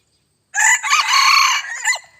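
After a brief silence, a small bantam rooster lets out a single loud, high-pitched crow close by, lasting over a second before trailing off.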